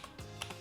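A few quick keystrokes tap on a mechanical AZERTY keyboard, faint clicky strikes close together in a quiet room with no voices.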